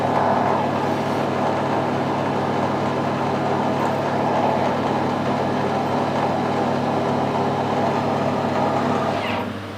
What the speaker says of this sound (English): Reverse the lathe.